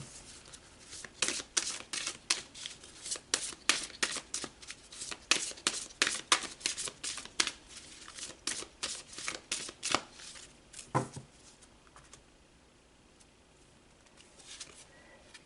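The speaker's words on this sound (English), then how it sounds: "So let's pull some more cards." Tarot cards being shuffled by hand, a steady run of crisp riffling snaps close by, fading into quieter handling near the end.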